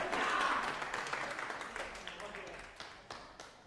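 A darts crowd roars and claps at a MODUS Super Series match, a broad wash of cheering that swells early and then slowly fades, with scattered claps and a commentator talking over it.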